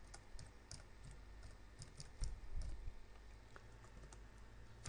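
Someone types on a computer keyboard in steady, quiet, close-up clicking. Keystrokes patter irregularly for several seconds against low background hum, and no one speaks.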